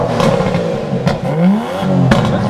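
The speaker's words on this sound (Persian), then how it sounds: "بیا ماشین رو یه استارت بزن که صدای اگزوز رو بشنوی" An Aston Martin with a twin-turbo engine fires up and revs hard, loud and close, its pitch sweeping up and falling back through several throttle blips with sharp exhaust cracks between them.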